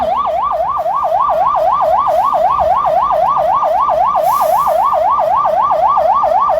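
A police ambulance siren wails loud and close at a police pass-out parade at a training school in Zambia, its rapid rising-and-falling yelp repeating steadily for several seconds with no talk over it.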